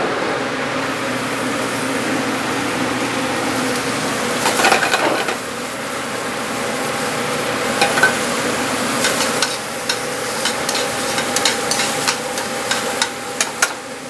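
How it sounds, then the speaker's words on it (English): Sausage rendering in a pan of bacon grease, a steady low sizzle with occasional stirring scrapes and light clinks, close and fairly quiet, with no talking. "first thing you're going to do is you're going to render off your sausage"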